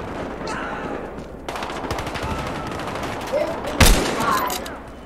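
Gunfire in Battlefield Hardline multiplayer team deathmatch: rapid bursts of automatic weapon fire and a sharp close shot, with a player talking over the action.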